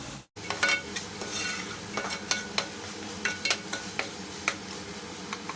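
Masala and fresh curry leaves frying in oil for a tamarind fish curry, a close continuous sizzle with scattered spoon scrapes and clicks against the pan, no talk.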